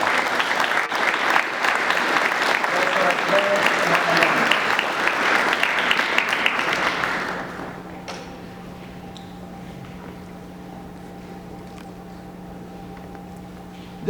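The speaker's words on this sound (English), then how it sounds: "So how about a round of applause for Bishop Canevin and the students?" An audience applauds at a school recognition event for Bishop Canevin students, a loud, steady clapping that lasts about seven seconds before abruptly fading into a quiet room hum.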